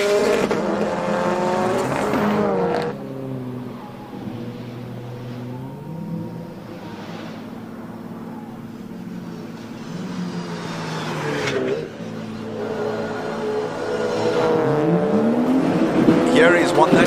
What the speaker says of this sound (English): Let's just listen to these cars.